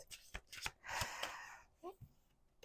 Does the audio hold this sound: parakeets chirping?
no